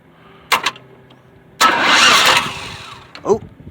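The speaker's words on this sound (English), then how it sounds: "I can't turn the key and start it, so I'm having to jump the starter" A starter motor cranks the engine of a 2006 Pontiac Grand Prix, jumped directly at the starter: two short clicks and bursts, then a sustained loud whirring crank of nearly a second before a final brief burst.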